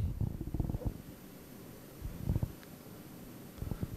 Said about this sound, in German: Der Magen knurrt schon